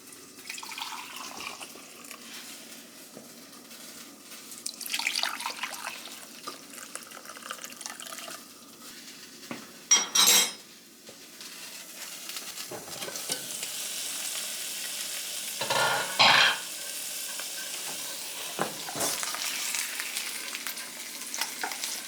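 Warm broth poured into a hot pan for a keto pulled pork meal, a steady sizzle and bubbling with sharp splashes and stirring, close up and continuous.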